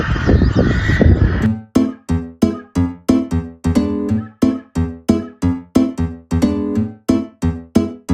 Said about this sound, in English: Crows are noisy this morning.